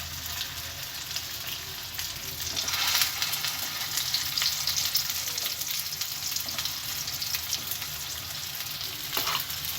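Chicken vada frying in oil in a pan, a steady crackling sizzle with occasional brighter pops and spatters, close and continuous for the whole stretch.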